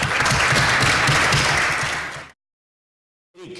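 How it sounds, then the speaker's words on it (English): An audience at a urology conference applauds after a live surgical demonstration, with dense, steady clapping for about two seconds before it cuts to silence and a brief return of sound. "we are going to give you a clap for this very nice demonstration"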